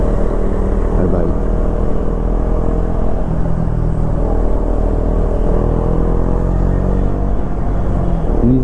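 A motorcycle rides on a wet road through a sal forest in monsoon rain, its steady engine rumble droning loud and close with tyre hiss throughout.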